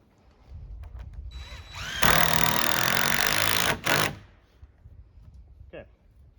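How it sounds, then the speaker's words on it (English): A power drill drives screws down through the center of a wall top plate during an off-grid cabin framing build, whirring steadily for about two seconds in a close, loud burst amid faint shop noise. "I'm going to put a couple of screws right down in the center."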